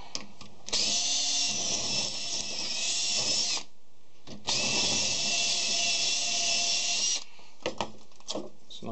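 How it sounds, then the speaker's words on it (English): A power drill whines steadily in two long bursts as it bores out a metal rivet while a magnetic drop light is taken apart, with a short pause between the bursts and brief handling noises afterward. "Just drilled out that rivet."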